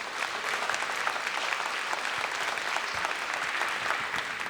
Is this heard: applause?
yes